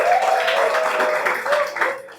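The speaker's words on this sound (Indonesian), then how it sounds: "Tepuk tangan untuk Kucing." An audience claps for a comedian called Kucing, a short burst of scattered applause at a steady level that fades away at the end.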